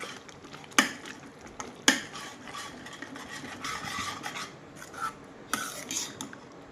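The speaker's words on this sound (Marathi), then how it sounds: "पालक नाख दू छू आणि मिक्स कर लू जरा" Spinach being mixed into cooking bhaji with gram masala in a pan: close, uneven rasping scrapes of a spoon against the vessel, with two sharp knocks early and a few more later, over a soft background and no talking.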